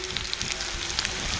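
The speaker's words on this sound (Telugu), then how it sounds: "ఉల్లిపాయలు వేసినాము, మంచిగానే అవుతున్నాయి, కటకట అవుతున్నాయి" Chopped onions frying in a pan, a steady close sizzle dotted with small sharp crackles and pops over its short length.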